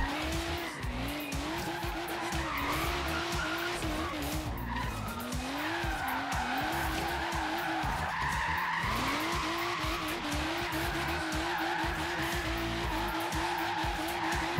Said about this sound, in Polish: Drifting competition.